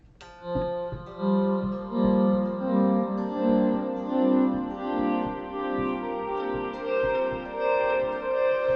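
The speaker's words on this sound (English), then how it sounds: "I'm using a volume pedal to do the swells." Clean electric guitar notes swell in softly through a volume pedal without a picked attack, each rising and fading in a slow, even rhythm with echoing sustain.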